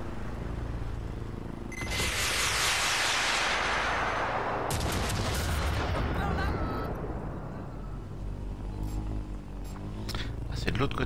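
Rapid machine gun fire from the video game Watch Dogs: Legion, a loud dense burst lasting a few seconds, followed by further rattling shots and impacts under continuous game noise.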